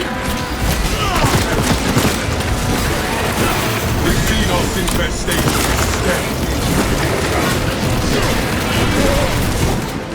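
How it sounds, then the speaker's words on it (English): Frag grenade blasts and heavy gunfire in the Warhammer 40,000 Space Marine 2 video game, a loud continuous barrage of booms and shots with game voice lines over the top. "Releasing frag grenade."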